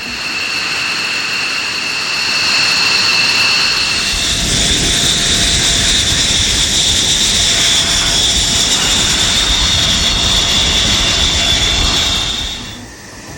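An F-16 fighter jet on a flight test passes with a loud, sustained roar and whining engine tones that swell, hold and then drop away at the end.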